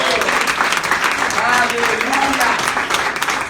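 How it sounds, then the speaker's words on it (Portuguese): A church congregation claps steadily and warmly during a worship service, a loud, sustained wash of applause mixed with voices calling out. "Dê uma salva de palmas ao Senhor."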